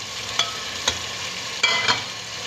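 Mutton frying in a pan keeps up a steady sizzle, broken by four sharp spatula scrapes and stirs at uneven intervals, all close up and with no voices.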